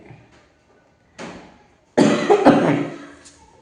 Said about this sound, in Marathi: आणि कोरडा खोकला एक चालू आहे.